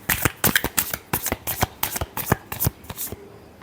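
Tarot cards being shuffled by hand, a quick run of about a dozen crisp riffling slaps in a steady rhythm, close and clear, then the motion stops; no talking.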